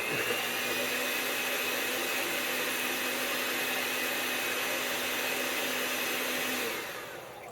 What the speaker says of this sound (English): the main thing you're going to do is to beat this, and it really helps to have an electric mixer